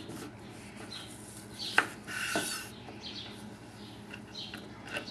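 A kitchen knife slices a cucumber thinly for a seaweed cucumber salad, giving two or three brief, soft crisp cuts against a board, close by and quiet, with no voices.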